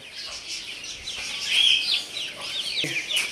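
A small flock of young chicks gives high, thin chirps and peeps that overlap continuously, with a few soft clucks, close by and fairly loud, and no talking.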